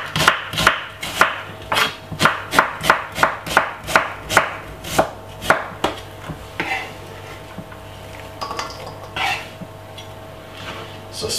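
A knife chops spring onion very finely on a board: a quick, even run of about a dozen crisp, close chops, then a few slower, scattered cuts.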